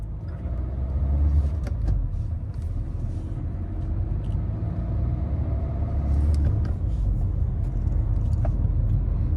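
Low, steady rumble of a Kia Sonet HTX diesel car engine heard from inside the cabin while driving, a constant drone with faint road noise and small swells, no talking.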